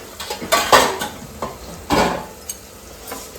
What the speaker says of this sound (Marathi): आता आपण याच्यामध्ये सर्व असा मिक्स करून घेऊ